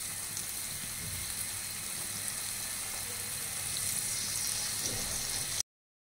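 Chicken pieces dropped into a pan of sautéed onion-spice masala for a homemade gravy give a steady, broad sizzle with soft crackles throughout, unbroken by talk.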